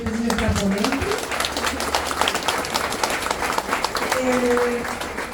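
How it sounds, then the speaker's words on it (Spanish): An audience at a political theology talk applauds the speaker, a dense burst of clapping from a seated crowd that carries steadily under a voice speaking at the start and again near the end. "Un aplauso para nuestra ponente."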